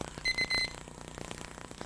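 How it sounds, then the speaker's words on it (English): A kitchen timer on a Turbo Cooker rings in three short, bright electronic beeps close by, followed by low kitchen clatter. "Okay, there's the timer."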